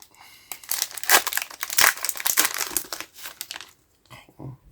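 Foil wrapper of a Yu-Gi-Oh booster pack being torn open and crumpled up close, a loud burst of crinkling and tearing that fades out near the end, with no talking.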